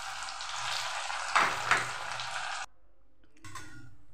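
Sago (sabudana) pakoras fry in hot oil with a steady, close sizzling hiss and a couple of brief louder crackles, then go quiet before a short burst of sizzle returns.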